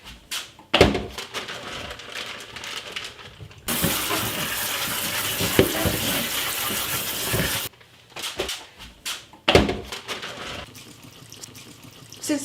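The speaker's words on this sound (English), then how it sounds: "So I'm going to get them rinsed off." Tap water runs over frozen green beans in a kitchen, with bursts of handling and clatter before and after a steady four-second rush of running water.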